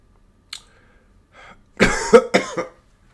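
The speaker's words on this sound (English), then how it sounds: "That cough." A single person coughs a few times in a quick harsh cluster after a short breath and throat noise, close and clear, with near silence around it.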